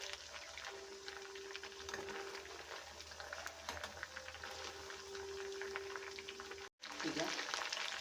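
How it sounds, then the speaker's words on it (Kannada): Green kababs fry in a pan, turned on both sides, giving a quiet, steady bubbling sizzle with faint tones and small clinks, briefly cutting out near the end. "ನಾನು ಎರಡು ಕಡೆ ಚೆನ್ನಾಗಿ ತಿರುಗಿಸಿ ಫ್ರೈ ಮಾಡ್ಕೊಳ್ತಾ ಇದ್ದೀನಿ."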